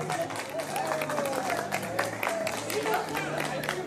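An audience applauds at a mariachi performance, a steady patter of clapping from a crowd running under a voice speaking over it throughout.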